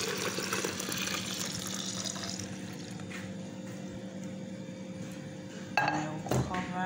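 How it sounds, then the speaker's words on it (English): Milk is poured into a plastic bowl for homemade yogurt, a steady liquid pouring rush for several seconds, fairly soft and close, followed by a few light plastic knocks and clinks near the end. "I'm going to pour it into my plastic bowl."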